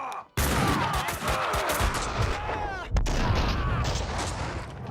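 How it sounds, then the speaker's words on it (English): Gunfire in the video game Max Payne 2: a rapid fusillade of shots and crashing impacts, with a sharp burst near the end, dense and loud throughout. "Someone must have heard the gunfire."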